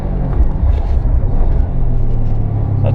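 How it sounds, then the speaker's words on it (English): A car engine rumbles loud and close through a heel-toe downshift into second gear, a steady low drone that swells with a rev blip toward the end, with no voices. "So back down into 2nd gear again"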